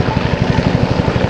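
Black Hawk and Huey military helicopters at an Air National Guard open house, a loud close rhythmic rotor thump pulsing steadily throughout.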